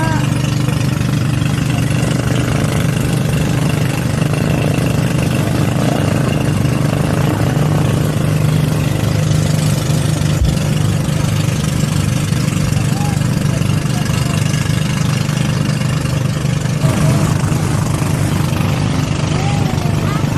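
A boat engine idles with a steady, loud, low droning hum throughout, unchanging in rhythm.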